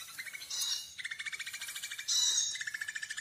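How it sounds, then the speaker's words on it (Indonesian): A recorded konin bird call plays from an MP3 through a speaker: rapid trilling chirps repeated in bursts, fairly quiet, with no other sounds. "Di bawah sana kita sudah taruh suara burung ya."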